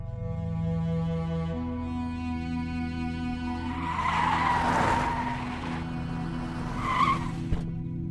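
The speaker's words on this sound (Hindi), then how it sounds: "बादशाह, गाड़ी निकलो" A car pulling away with its tires skidding and squealing, the screech rising over a steady background of music tones, loud and fairly close, with no talking.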